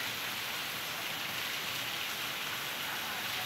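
Heavy rain pours steadily outside the civil registry office in Baubau during flooding, a dense, constant hiss of falling water without talk.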